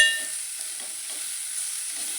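Ingredients for a tindora (ivy gourd) masala curry fry in a pan, giving a faint, steady sizzle with a few soft stirring scrapes and no voices.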